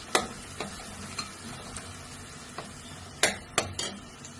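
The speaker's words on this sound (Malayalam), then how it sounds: "നമുക്ക് സവാള പൊരിച്ചെടുക്കാം" Sliced onions fry in a pan of oil for a mutton curry, a soft continuous sizzle broken by several light clinks and scrapes of a spoon stirring against the pan.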